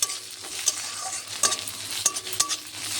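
Spiced prawn curry stirred in a pan after turmeric, chili powder and salt go in, a soft steady sizzle broken by a few sharp scrapes of the spoon against the pan.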